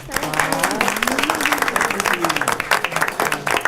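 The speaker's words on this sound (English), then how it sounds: "We'll give her a little applause." Brief audience applause at a town council meeting, a small group clapping unevenly while voices talk over it.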